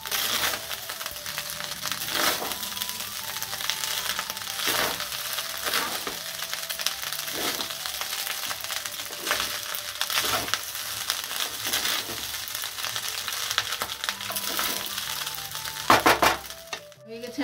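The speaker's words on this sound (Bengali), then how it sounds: "এবার একটু ঘি দিয়ে দেব, একটু নাড়াচাড়া করে দেব।" Vegetable fried rice stirred with ghee in a pan gives a steady, close sizzle with repeated scraping and stirring strokes and a few clinks, carrying on for the whole stretch with no talk.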